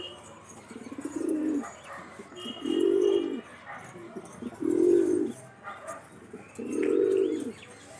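Pigeons kept at home coo nearby in four evenly spaced, low, rounded calls, each lasting about half a second, over faint background noise.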